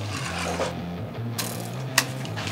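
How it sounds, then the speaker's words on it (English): A chalk line is snapped across deck boards between marked posts during a deck build. Close mechanical clicking gives way to one sharp, crisp snap, with a smaller tap before it. "snapping a line."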